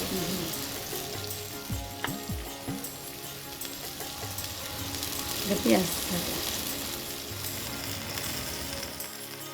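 Spices for a chicken curry made with green mango fry in hot oil, sizzling steadily up close while a spoon stirs and clinks against the pan now and then.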